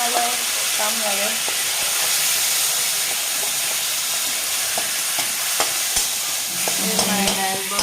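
Tomatoes fry in hot oil for dal, with a continuous loud sizzle and hiss and occasional clinks and scrapes of stirring, while a voice briefly murmurs in the background.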